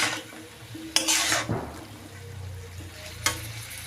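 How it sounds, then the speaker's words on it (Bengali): A drumstick curry with spices is stirred in a pan, with a couple of sharp metal scrapes and clinks of the utensil over a low, steady sizzle close by, and no speech. "এখন একসাথে ভালো করে মিশিয়ে নিব।"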